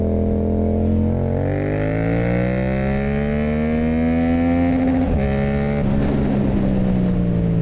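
A loud, continuous motorcycle exhaust drone rising steadily in pitch as it revs, with a brief dip and a sharper surge near the end, heard up close.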